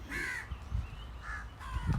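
A crow caws three times in a loose rhythm, harsh and fairly near, against quiet low rumble with no talk.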